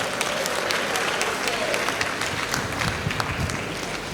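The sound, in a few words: audience applause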